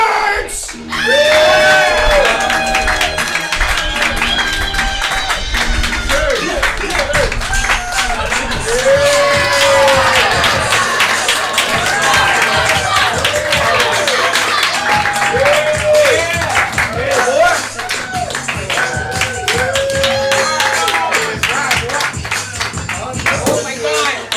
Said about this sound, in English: let's get a round of applause for the OSHA approved team